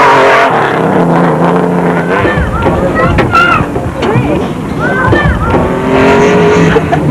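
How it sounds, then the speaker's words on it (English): Off-road rally race cars at the Baberspan 500 in rural Northwest Province, engines roaring and revving loudly and continuously, with passing surges and a voice talking over the noise. "the normally restful atmosphere of rural Northwest Province was being shattered by the roar of thundering engines"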